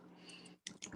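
Quiet clicks of typing on a computer keyboard, a short burst of keystrokes after a brief pause, alone without speech.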